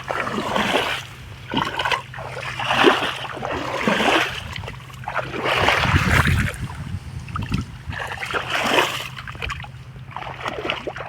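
Irrigation water flows into a grass field, a steady rushing and splashing that swells in repeated surges over a constant low hum, with no voices.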